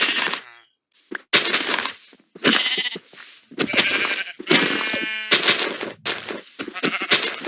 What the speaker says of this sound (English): I have to go over here and kill some of these sheep.